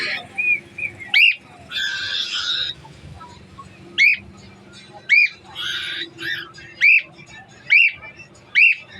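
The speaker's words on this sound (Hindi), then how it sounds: "तो ये भाई ने रखा हुआ तोता" A pet parrot gives repeated sharp, piercing squawks at close range, about eight calls spaced roughly a second apart, with harsher noisy bursts and faint background sounds between them.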